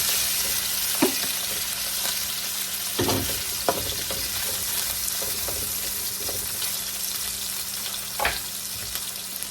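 Chicken fries in a pan with a steady, loud sizzle throughout, broken by a few stirring scrapes and clacks.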